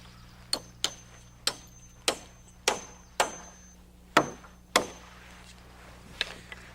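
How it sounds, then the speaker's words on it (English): A hammer drives nails into a permanent sway brace on a roof ridge during roof framing: about ten sharp, separate strikes in an uneven rhythm, fairly distant and alone. "we nail in a permanent sway brace"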